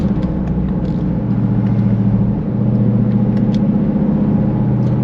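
A Dodge Durango engine at high speed, pushing toward its top-speed limiter: a loud, steady droning rumble with a constant engine tone and a brief dip partway through.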